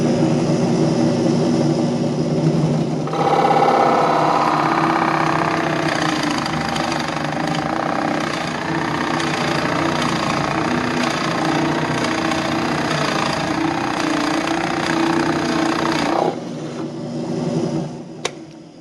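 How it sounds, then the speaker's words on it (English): A drill press motor whirs steadily near at hand while it bores a pilot hole partway into a wooden cutting board, running for about thirteen seconds before winding down. "I'm going to go ahead and turn this on and drill my hole on about halfway through."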